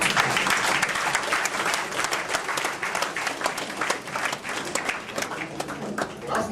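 Audience at a birthday reception breaks into sustained applause, many hands clapping steadily and fairly close for several seconds with no pause, a dense crowd sound without speech.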